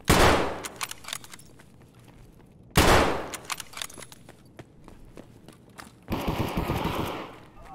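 Mosin bolt-action rifle shots ring out in Escape From Tarkov at close range, three loud single cracks spaced a few seconds apart, with footsteps and gear rustling between them and a rumbling stretch after the last.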